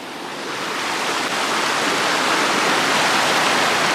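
A Himalayan river rushes loudly and steadily during a crossing, a dense close roar of flowing water with no voices.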